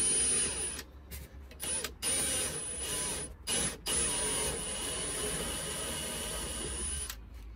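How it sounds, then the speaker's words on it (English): A steady, loud mechanical whir of a step drill boring through a sheet metal side panel of a 70 Series LandCruiser, running continuously with a few brief pauses near the start. "I'm going to use a stepper drill to put that through."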